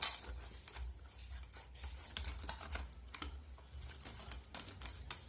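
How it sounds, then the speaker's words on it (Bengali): A ripe, peeled mango being grated by hand on a kitchen grater, giving close, repeated scraping strokes in an uneven rhythm with light clatter, and no talk. "এই গ্রেটারের সাহায্যে আমি এই আমটাকে এইভাবে গ্রেট করে নেব।"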